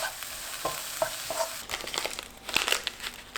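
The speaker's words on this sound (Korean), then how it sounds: "파프리카 넣고 1분 30초 볶으면 야채 준비 끝" Onion, carrot and paprika are stir-fried in a pan, with a soft sizzle under scattered scraping and clacking from stirring, near and faint, and no talk.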